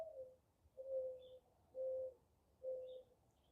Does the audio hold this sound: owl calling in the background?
yes